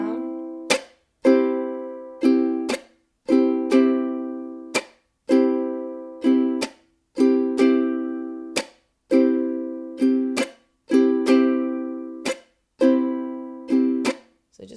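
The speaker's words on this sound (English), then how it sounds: "we're going to add a chuck, which is where you're basically muting the strings." A ukulele strums a repeating down-down-up-down-up pattern, bright chords broken by sharp muted chucks on beats two and four, close and clear with no talking.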